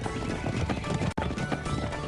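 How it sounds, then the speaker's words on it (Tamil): Seven horses run off together, their hooves drumming in a dense, continuous clatter that is loud and close, broken by one brief cut midway, with no voices over it. "அங்க பாத்தியா 7 குதிரைகளும் கிளம்பி போய்கிட்டு இருக்கு"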